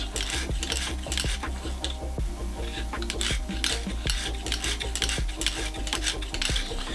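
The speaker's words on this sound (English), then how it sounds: "I'm just going to work with the coarse stone at just getting that burr out of the blade" Knife blade worked back and forth on a coarse Lansky sharpening stone to remove a burr, giving steady rhythmic rasping scrapes with light metallic clinks, close and continuous with no talk.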